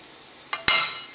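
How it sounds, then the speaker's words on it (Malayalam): Two short scraping bursts in a pan, then a soft sizzle of coriander powder frying in oil that fades over a second. "മല്ലിപ്പൊടിയും എണ്ണയിൽ കിടന്ന് നന്നായിട്ട് മൊരിഞ്ഞിട്ടുണ്ട്"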